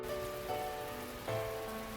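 Rain patters softly and evenly across a surface during a sudden downpour in the visual novel The Fruit of Grisaia, quiet and continuous with no voices.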